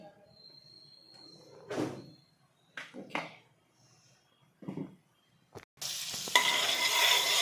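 Butter melting in a pan for pav bhaji, quiet patches broken by short stirring scrapes, then a loud bright sizzle that swells and holds close at the end.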